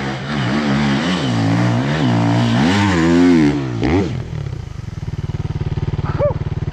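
A dirt motorcycle's engine revs hard and rises in pitch under added throttle, loud and close, then drops back to a fast rattling idle.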